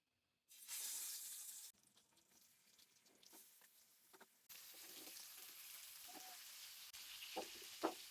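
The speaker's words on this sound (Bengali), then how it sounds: "এখন সেটা আমি তেলে সুন্দর করে ভাজবো।" Oil sizzles and crackles loudly as fish is dropped into a hot pan, the spattering hiss rising and falling in bursts.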